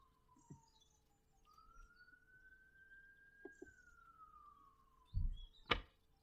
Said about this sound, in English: ambulances outside. I don't know if you can hear that.